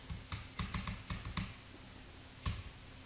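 Keys clatter on a computer keyboard while figures are entered into an Excel spreadsheet: a quick burst of close, crisp keystrokes, a pause, then one final firm tap.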